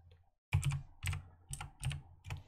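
Keys on a computer keyboard are tapped in five distinct, evenly spaced bursts, close and crisp after a short quiet start, while a name is entered in a game; no voices.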